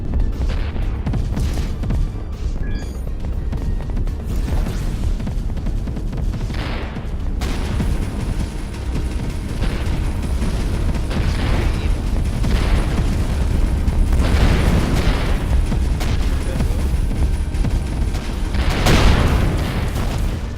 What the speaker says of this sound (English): Someone is shooting at you. Yeah. I'll shoot back.